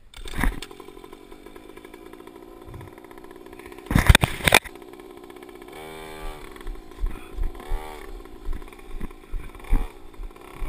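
A motocross motorcycle engine is kicked and coughs with a few short bursts, then fires up and runs with uneven revving pulses, heard close amid some handling clatter.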